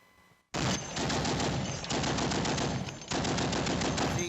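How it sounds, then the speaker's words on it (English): Loud, sustained bursts of .50 caliber machine gun fire, rapid booming rounds in two or three long strings with brief pauses between them, close and dominant. "This is a 50 caliber machine gun."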